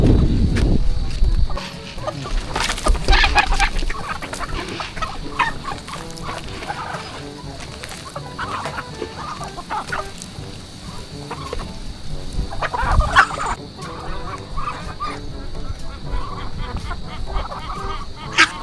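Chickens cluck and squawk in a yard with a loose dog nearby. The calls come in irregular bursts, fairly close, with scattered rustling and other background noise.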